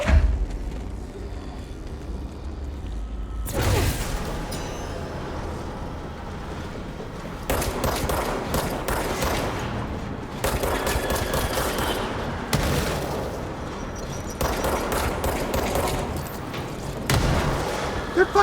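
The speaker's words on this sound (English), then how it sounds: "They're fucking throwing grenades!" Heavy gunfire and booming blasts in a firefight in the game Control, with enemies throwing grenades. Loud volleys come in bursts, separated by brief quieter gaps.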